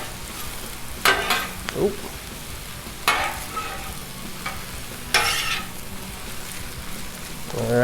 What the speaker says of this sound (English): Want to stir it up a little bit.